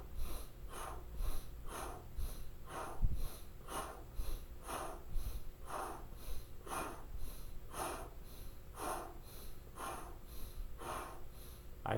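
Rapid fire-breathing exercise: quick, forceful nasal breaths repeat in a steady rhythm, roughly one per second, sharp sniffing puffs close to the microphone with no talking.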